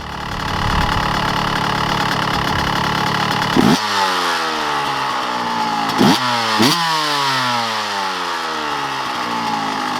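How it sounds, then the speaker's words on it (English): A dirt bike engine with a Lectron Billetron carburetor idles loudly and steadily nearby, with a few quick throttle blips that rise and fall in pitch. "As you see here, the bike has been idling flawlessly for a while."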